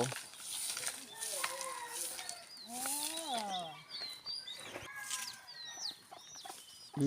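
Chickens cluck and call around a village, several birds at moderate distance in irregular bursts, with someone talking over them.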